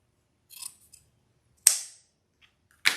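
Scissors snip through a ribbon tail on a spring trendy tree craft, giving two sharp, close crisp cuts after a few faint light handling taps in an otherwise quiet room.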